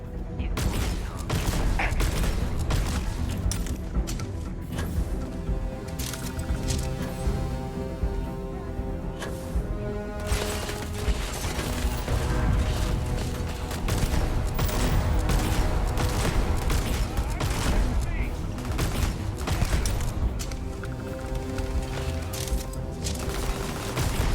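Weapon fire in the sci-fi shooter Starfield, inside an abandoned bionics lab: steady repeated shots and mechanical clatter over a dense, continuous game soundscape with occasional booms, with a voice speaking at times.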